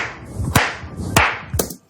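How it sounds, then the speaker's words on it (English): Three sharp hand claps, evenly spaced about half a second apart, ring out close and loud in a quiet room with nothing else heard. "Whenever I record, I like to do 3 claps."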